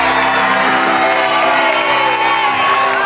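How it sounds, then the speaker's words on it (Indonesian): An entertainment show audience applauds and cheers for Bang Wahid, a loud, dense wash of clapping, whoops and shouts that fills the whole stretch without a break. "Tepuk tangan dong buat Bang Wahid"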